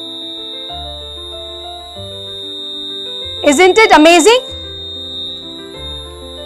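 The buzzer of a homemade water tank level alarm from a class 4 science activity sounds a loud, steady, high-pitched tone over soft background music, while a voice speaks briefly in the middle.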